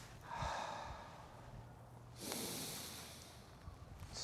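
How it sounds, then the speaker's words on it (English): Slow breath drawn in during a Flying Crane qigong exercise, a soft airy inhale swelling then easing, followed by a second longer breathy rush, close and quiet with no talking. "So we're gonna breathe in."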